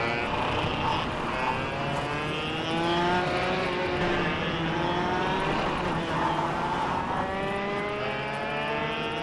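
A loud, continuous whining kart engine from a ghost racer in the KartKraft racing game, its pitch rising and falling steadily through the laps with no talking.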